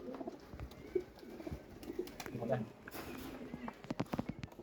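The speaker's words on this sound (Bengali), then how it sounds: "এই আছে কবুতর দুইটা কবুতরই খুব হারামি" Pigeons coo softly in low murmuring bursts, with a person talking nearby and light rustling and tapping around them.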